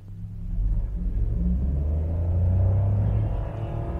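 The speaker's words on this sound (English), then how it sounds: "Okay, put in sport and accelerate from" A 2024 Suzuki Celerio small car accelerating in sport mode, heard as a low, swelling engine rumble from inside the cabin that rises and holds steady, with no talking.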